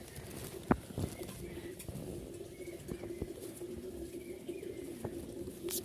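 Rajshahi Giribaz pigeons, a pair of high-flying tumblers, coo softly and repeatedly up close in a quiet space, with a few faint taps and a brief knock near the start.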